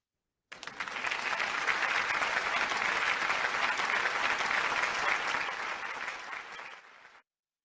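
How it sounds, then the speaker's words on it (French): Warm audience applause at a Toastmasters club officer training session, a steady dense patter of many hands clapping for about seven seconds, fairly close and loud, then tapering off at the end with no talk over it. "Je vous prie de l'applaudir chaudement."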